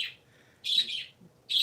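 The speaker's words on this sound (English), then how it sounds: "What are you birdies doing?" Pet parakeets chirp in short bright bursts, three clustered calls with brief quiet gaps between, close and fairly loud with no talking.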